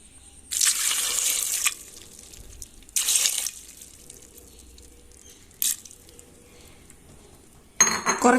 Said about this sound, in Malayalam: ഇനി ഇതിലേക്ക് നമുക്ക് ആവശ്യത്തിന് വെള്ളം ഒഴിച്ചു കൊടുക്കാം.